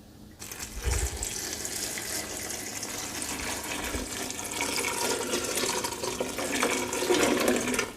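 Tap water gushing steadily into a pot, seven cups' worth, a continuous close rushing fill that grows slightly louder toward the end.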